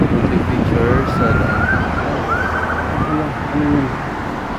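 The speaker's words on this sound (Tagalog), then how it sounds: "May ambulansya." An ambulance siren wails through street traffic, its rising and falling tones sounding loud over a constant roar of engines and road noise.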